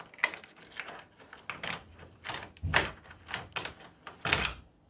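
A key turns in the lock of a newly made custom-ordered door, giving a series of close, sharp metallic clicks and rattles in uneven bursts with no talking.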